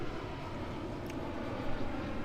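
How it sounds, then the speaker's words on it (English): A passing airplane drones overhead as a steady, fairly faint broadband rumble that swells slightly toward the end, heard outdoors with no talking. "we'll let this plane fly over."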